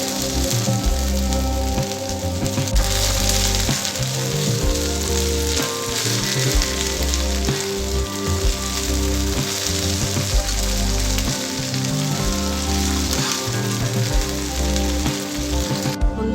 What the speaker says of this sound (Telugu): మిరపకాయలు ఫ్రై చేసుకునేది ఆయిల్లో గోంగూర వేసుకోవాలి